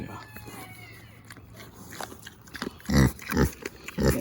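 A farm pig grunts and snuffles near a feed bowl, several short low grunts growing louder toward the end, close by. A person nearby imitates the oinking and talks softly to it.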